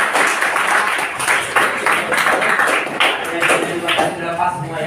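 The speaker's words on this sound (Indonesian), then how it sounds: "Kalau sesuai, maka berikan tepuk tangan untuk kelompok 5." A classroom of students claps for a student group, a lively burst of many hands applauding together at close range, continuing steadily for several seconds.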